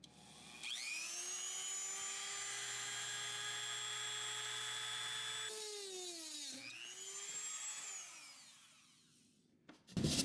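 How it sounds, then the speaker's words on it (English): A high-speed rotary power tool cuts Atlas flex model railroad track with a steady whine that dips as it bites into the rail, briefly pauses, spins back up, then winds down, close and alone. "So let's get to cutting."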